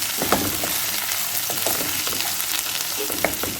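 Bitter gourd sizzles loudly in oil while a spoon stirs it, producing a continuous close frying hiss broken by scraping strokes, with no talking.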